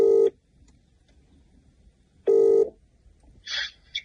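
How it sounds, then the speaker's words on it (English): A telephone dialing tone, two loud steady beeps separated by a pause, then a softer higher chirp, with no voices over it. "So we're going to phone him. We're dialing."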